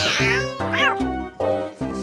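A cat meows several times in a row, each call loud, close and drawn out with a wavering pitch.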